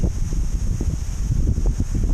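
Steady wind buffeting a microphone, a low continuous rumble with gusty fluctuations and no voices.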